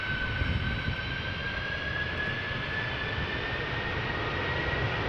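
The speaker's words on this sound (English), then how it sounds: "Flight 135 from Delta, A330-300 going to Detroit, Michigan." A Delta Airbus A330-300 departs Amsterdam Schiphol Airport for Detroit in damp, drizzly weather, its jet engines a continuous broad roar carrying a faint steady whine, heard alone without voices.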